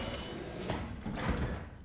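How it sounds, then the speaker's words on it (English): A door closing in the sci-fi horror game SOMA, a quiet mechanical slide with two soft thuds heard alone against a low ambient hum. "Oh wait, no, I just closed that door ahead of me."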